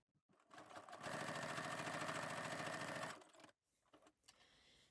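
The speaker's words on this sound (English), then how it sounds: "This means now that you stitch it from the right side." Sewing machine stitching a fabric strap from the right side, a steady rapid mechanical whir of about two seconds at close range, starting and stopping cleanly, followed by faint handling noises.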